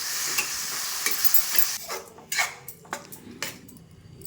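A spoon stirs Bandar chutney into a hot tempering in a pan. A steady sizzle runs for the first two seconds, then scraping and clinking strokes follow close by at an uneven rhythm. No one speaks.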